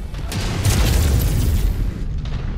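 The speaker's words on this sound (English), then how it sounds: "Incoming missile." A deep rumbling boom from an incoming missile striking during a MechWarrior 5 battle, rolling loudly for a couple of seconds with crackling debris.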